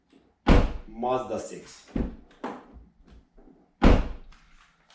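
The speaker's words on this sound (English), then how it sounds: "But the doors, terrible noise." Car doors on a 2012-2019 VW Passat shutting with two loud, hollow slams and some lighter clunks in between, while someone talks over them.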